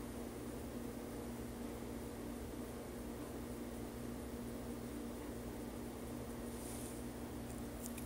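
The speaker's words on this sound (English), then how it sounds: "washing machine and dishwasher running here" Steady, even mechanical hum with a low drone, like a washing machine and dishwasher running nearby, filling the whole stretch without talk.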